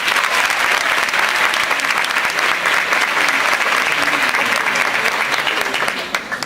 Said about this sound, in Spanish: Recibamos con un fuerte aplauso a uno de nuestros foristas en la tarde de hoy, Don Miguel Franjul.